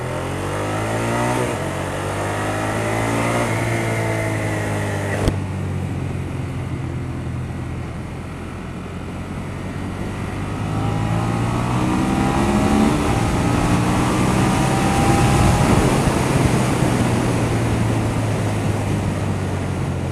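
A 2014 Ducati Monster 1200 engine pulls hard and loud up through the revs, with a gear change and then another rising surge, under steady wind noise on the road.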